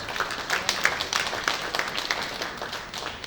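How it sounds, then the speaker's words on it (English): A small audience claps at a book launch, the individual claps fairly distinct and uneven, moderately quiet and sparse rather than a dense roar. "Please, let's give him another round of applause."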